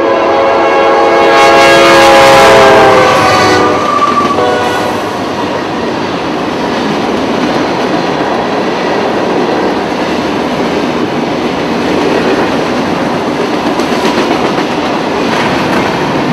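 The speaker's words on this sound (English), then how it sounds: "This is a unit rock train, K710, running empty from Orlando, Florida's Taft Yard back to Junction City Mining." An empty unit rock train sounds its horn in a loud, sustained blast, then rolls past with a continuous rumble and clickety-clack of wheels on rail that stays steady and close, with no voices.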